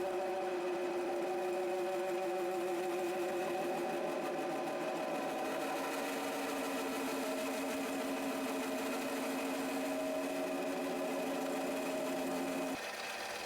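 Metal lathe parting off a workpiece, a steady humming motor whine with a shifting cutting tone that holds for several seconds before changing near the end, close and moderate.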